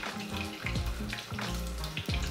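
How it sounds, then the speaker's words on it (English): Dimsum, hargao dumplings, frying in oil over a lowered flame, a steady close crackle and bubbling with louder bursts of spatter throughout. "Lower the flame. Let it fry"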